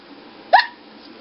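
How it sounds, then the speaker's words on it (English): A single sharp hiccup rising out of quiet room tone, close and brief, with no one talking over it. "Poe still has the hiccups."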